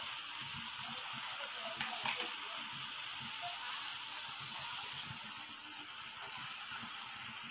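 Constant bright sizzling hiss from food frying in a pan, steady throughout with occasional faint clinks and soft crackles.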